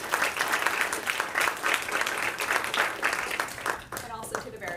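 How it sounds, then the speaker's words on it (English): An audience at a law school talk gives the speakers a big round of applause, a thick, continuous wash of clapping that begins to thin out near the end. "Let's just give them a big round of applause."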